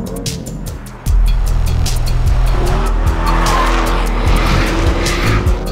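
A Porsche 718 Cayman S on a race track gives a loud, close engine note that jumps sharply and holds a rising rev with tire squeal under it, joined by a harsh rasping whine as it accelerates.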